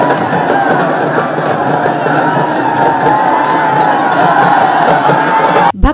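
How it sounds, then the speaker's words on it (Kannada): A dense, loud crowd of devotees chants victory cheers while pulling a temple chariot at a rathotsava festival, a continuous roar of many voices that cuts off abruptly at the end. "ವಿಶ್ವಾರಾಧ್ಯ ಮಹಾರಾಜ್ ಕಿ ಜೈ ಎಂದು ಜೈಕಾರ ಹಾಕುತ್ತಾ ಶ್ರದ್ಧಾ ಭಕ್ತಿಯಿಂದ ರಥವನ್ನ ಎಳೆದರು"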